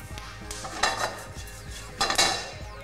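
Pumpkin seeds toast in a dry pan, giving a close, dry rattle and scrape with two louder bursts as the pan is shaken or stirred, and no talking.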